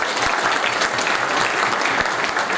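Enthusiastic applause from an audience at a political party event in Oldham, a dense steady clapping that fills the whole moment at close range.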